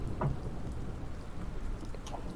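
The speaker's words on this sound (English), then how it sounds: "The rain is heavy" Heavy rain pours in a steady, even hiss with a soft low rumble beneath, a constant wash of sound with no voices.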